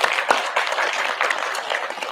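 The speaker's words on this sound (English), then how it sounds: "a particular round of applause for the students" Audience applause for a students' dance performance at a Pongal harvest celebration at Federal Parliament, a steady wash of many hands clapping at close range, alone without talk.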